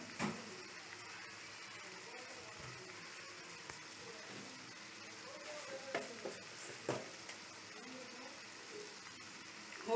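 Spices sautéing in hot oil for a Bengali stuffed pointed gourd dish, with a steady close sizzle throughout and intermittent scraping and clinking of a spoon stirring the pan.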